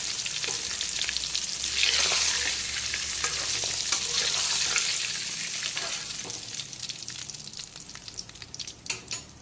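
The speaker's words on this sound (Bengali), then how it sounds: "ভোলা মাছের দুটো দিকই খুব ভালো করে ভেজে নিয়েছি" Bhola fish fries in oil with a loud, crackling sizzle and scattered sharp pops and stirring clatters, easing off and becoming more broken toward the end, with no one speaking.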